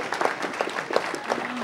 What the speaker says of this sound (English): We're going to give her a round of applause anyway.